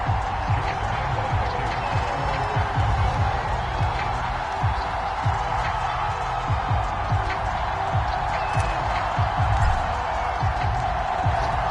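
A sold-out stadium crowd in a PS4 football game sends up a continuous murmur with scattered cheers and claps, while thumps and bursts of noise rise over it and the level stays steady.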